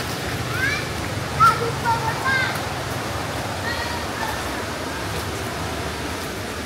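Clear, shallow river water flowing steadily at Lubuk Tengas campsite in Kampung Batu Kurau, Perak, a broad continuous wash heard at moderate level, with a few faint voices passing over it.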